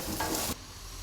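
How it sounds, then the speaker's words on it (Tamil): Pirandai (adamant creeper) sizzles and is stirred in a pan while being sautéed until crisp, a loud frying hiss that cuts off abruptly to quiet partway through. "நல்லா ஒரு 15 மினிட்ஸ்க்கு இந்த மாதிரி வணக்கி இந்த மாதிரி நல்லா முறுமுறுன்னு வர அளவுக்கு நம்ம வணக்கி"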